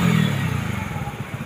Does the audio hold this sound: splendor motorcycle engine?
yes